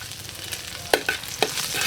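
Garlic and ginger sizzle in a hot pan for dinuguan of beef trotters, a steady frying hiss broken by a few sharp stirring scrapes, close and moderately loud with no talk.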